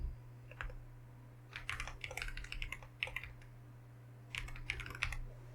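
Computer keyboard typing in short bursts of clicky keystrokes, fairly close, over a steady low electrical hum while setting up a material in Unreal Engine 5.5.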